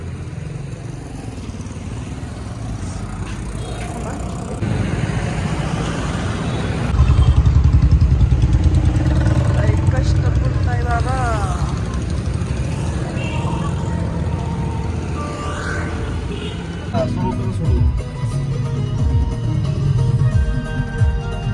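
A vehicle being driven along a village farm road drones with a steady engine rumble and clatter that swells and eases over time, while people talk nearby.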